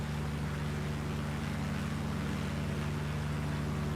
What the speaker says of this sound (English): the engine sound is a bit monotonous